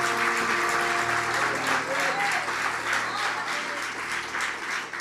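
A church congregation applauds the Lord in a steady, dense wash of clapping lasting the whole stretch, with a sustained musical tone and some vocal sound underneath.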